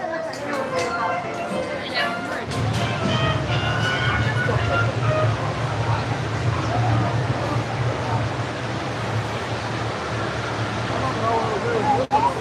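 A Disneyland train rumbles past steadily at a busy theme park during a crowded celebration, its low running noise continuous beneath crowd chatter and nearby talking.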